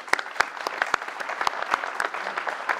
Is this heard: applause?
yes